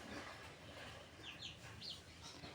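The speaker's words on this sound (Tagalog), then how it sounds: "may manok sa ibabaw" Farm chickens on a rural Philippine smallholding clucking softly, a few short clucks and calls scattered over faint background noise, quiet and somewhat distant.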